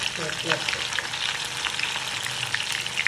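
Chopped onion sizzles steadily in bleached palm oil in a pot while cooking beans, a dense hiss holding at a constant level with a few soft crackles and pops throughout.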